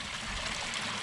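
Dirty water running along a cobbled channel in a garden water feature, a close, steady rushing trickle with no talking.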